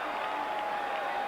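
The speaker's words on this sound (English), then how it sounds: "The roar from the crowd" A crowd roars at a 1992 Australia versus Great Britain rugby league test match, a brief steady wash of cheering and applause.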